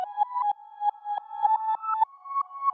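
A soft, thin melodic texture of short reversed, pitched-up tonal notes, each swelling and cutting off abruptly, repeating in a gentle rhythm with a slightly rising pitch.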